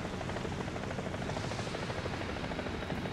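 An enemy helicopter flies low in the War Thunder video game, its dense rotor and engine roar steady and fairly loud throughout with no voices.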